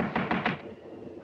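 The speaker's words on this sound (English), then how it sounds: "Better try knocking this time, Watson." Three evenly spaced knocks on a wooden door in an old house, fairly close and crisp, followed by a quiet room tone.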